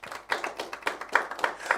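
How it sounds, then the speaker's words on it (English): A few people clapping at a TV game show, sharp separate claps in an uneven rhythm, close by and brief. "give yourself a round of applause"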